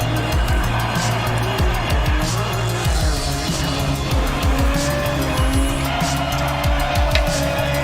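A car runs hard with repeated tire squeals and skidding over a loud engine roar and driving music, busy and close throughout, the squeals recurring in quick bursts.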